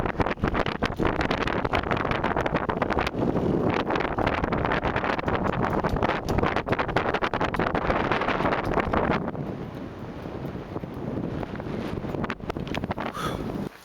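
Strong wind gusting and buffeting the microphone at the top of Lincoln Castle, a loud continuous roar that eases slightly near the end.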